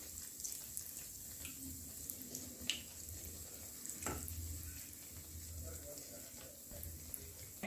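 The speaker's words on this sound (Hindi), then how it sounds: "हम ब्रेड के पीसेस डाल देंगे ऑयल में और इसको हम फ्राई कर लेंगे" Pieces of bread fry in hot oil, giving a steady, quiet sizzle that runs throughout, with a few soft clinks and stirring noises along the way.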